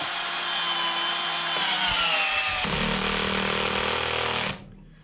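A Parkside 12V cordless drill driver drives a screw into wood with a loud, continuous motor whine that shifts in pitch as it bears down, then cuts off abruptly near the end.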